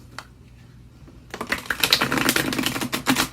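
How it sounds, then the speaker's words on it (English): After a quiet pause, a rapid crisp split shuffle of delicate tarot cards starts up, a dense flurry of papery flicks close by. "Split shuffle these very delicate cards."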